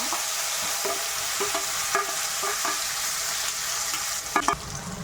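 Ground onion paste fries in oil with fennel seeds for a chana gravy, a bright sizzle broken by a series of quick spoon scrapes and clacks against the pan, close and rhythmic, with a louder clatter near the end.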